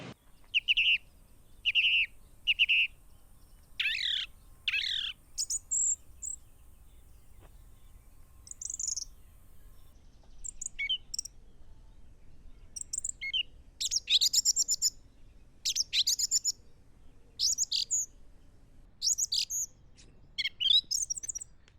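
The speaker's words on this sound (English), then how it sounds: "you can hear these birds singing their songs a little bit in the background" Birds sing in a botanical garden in Lisbon, with repeated high chirping phrases in short bursts separated by pauses, fairly faint and distant over a quiet background hum.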